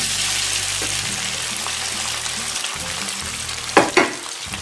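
Potatoes sizzle and crackle in hot ghee while being stirred, a steady frying hiss with a couple of louder scraping bursts near the end.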